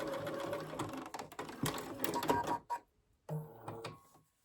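A sewing machine stitches through felt in rapid mechanical bursts, running steadily before stopping briefly and then starting again for a short final run at close range.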